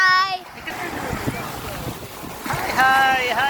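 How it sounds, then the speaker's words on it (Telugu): Waves and gusting wind sweep across Grey Water Beach in Rameswaram as a steady rushing wash, with brief voices heard near the start and again toward the end. "grey water beach in Rameshwar"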